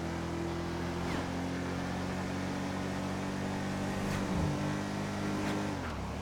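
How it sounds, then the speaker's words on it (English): A car engine in a GTA role-play video game revs and drones continuously, rising and falling in pitch with a few sharper shifts, heard steadily at moderate level with no talking. "I think it has an engine sound."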